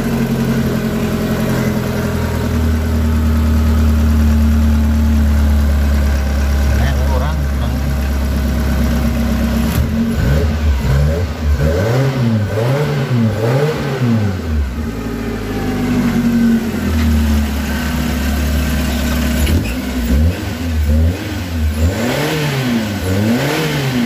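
A Suzuki Carry 1.0 injection engine running after a distributor timing adjustment: a steady, close idle drone broken by a few revs that rise and fall, with someone talking intermittently over it.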